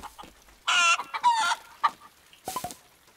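A cartoon hen sitting out a rainstorm in a barn clucks loudly in a few bursts of squawks and short clucks, close and clear without speech.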